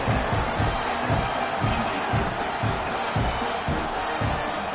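Crowd noise swells steadily through a stadium in an American football video game, a dense roar of cheering fans with rhythmic low thumps underneath, continuous and fairly loud.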